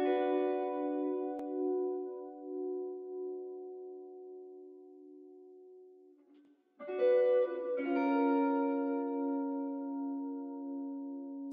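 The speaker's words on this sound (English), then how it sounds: "Moving on to the second electric guitar, which is a lot less busy than what I just showed you." A second electric guitar run through effects with EQ and reverb, sustained chords ringing out alone, a soft change midway followed by a new held, shimmering chord.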